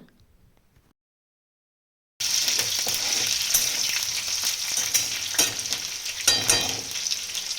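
After a short silence, curry leaves and chillies hit hot oil for a tempering, bursting into loud steady sizzling and crackling with scattered pops and spoon clinks, close up.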